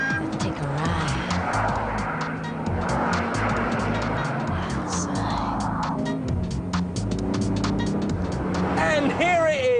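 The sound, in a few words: TVR Tuscan speed 6 4-litre engine car driving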